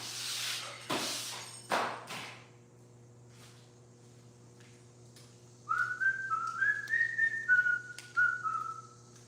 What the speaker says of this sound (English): Better stop whistling.